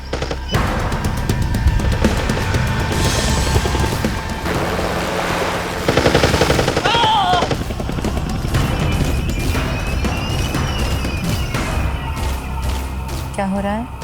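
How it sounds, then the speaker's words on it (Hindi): Rapid bursts of gunfire crackle in dense, loud volleys amid a noisy, chaotic scene with scattered whooshes and other effects. "गोली चल रही है।"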